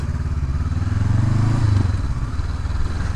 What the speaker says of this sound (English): it's like the engine braking from this bike, it's very good